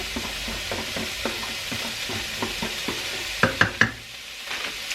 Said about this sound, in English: I'm gonna put my onions and garlic in there.